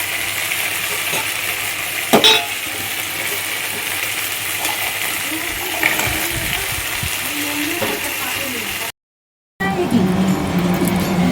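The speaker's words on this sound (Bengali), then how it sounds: "এদিকে মশলা কষাচ্ছি পনিরের তরকারি হবে" Spices sizzle and fry in a pan for a paneer curry, a steady low crackle with occasional clinks of a utensil, while someone talks over it.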